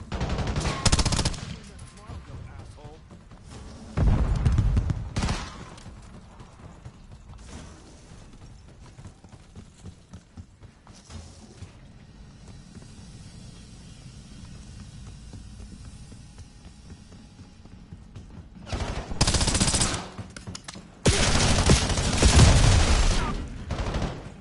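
Gunfire in the video game Call of Duty: sharp automatic bursts open the stretch, then a long lull of low background noise, before loud rapid volleys return near the end.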